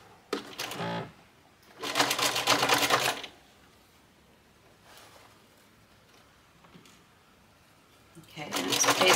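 Sewing machine stitching darts into the bodice of a lace wedding gown, running in three bursts: a short one, a longer steady run, and a final run starting near the end, with quiet pauses between.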